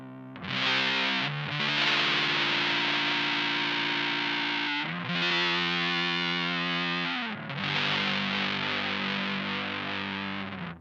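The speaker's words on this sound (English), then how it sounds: "You can add some fuzz to that." An electric guitar run through a fuzz effect plays sustained, thick distorted notes with a swirling, Leslie-like modulation, three long held phrases, loud and close with no talking.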